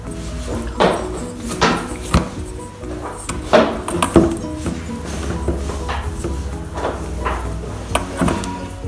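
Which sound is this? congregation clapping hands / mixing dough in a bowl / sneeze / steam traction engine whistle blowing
mixing dough in a bowl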